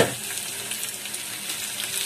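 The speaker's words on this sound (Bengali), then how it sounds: "আমি পেঁয়াজ আর রসুন ভেজে নিচ্ছি" Onion and garlic fry in a pan with a steady, close sizzle and light stirring scrapes, continuous and unbroken, with no one talking.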